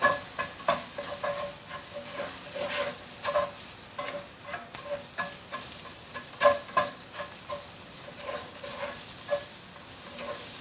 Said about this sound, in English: Mix onion with beets.